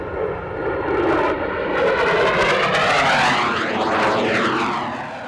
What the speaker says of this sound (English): Saddam Hussein's nightmare, the F-117a stealth fighter.